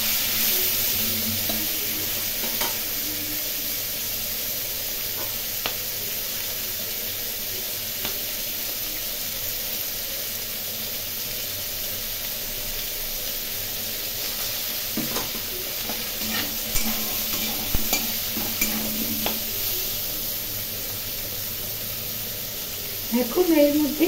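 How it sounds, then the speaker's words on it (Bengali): Prawns frying with potatoes in a pan, a steady close sizzle with occasional stirring scrapes running throughout, with a voice talking over it now and then. "ভালো করে আলুর সাথে চিংড়ি মাছগুলো ভেজে নেব।"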